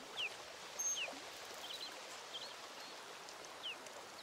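Flowing water in a video game: a faint, steady stream murmur with a few brief high chirps above it and no talking.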